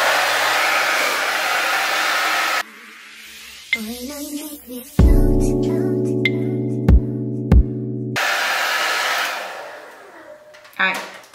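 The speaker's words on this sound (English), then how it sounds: "And I'm going to use my blow dryer on the cool setting." A handheld blow dryer runs on its cool setting during a glueless burgundy wig install, its steady broadband whoosh switching on and off several times, with music-like tonal sounds in the quieter gaps between bursts.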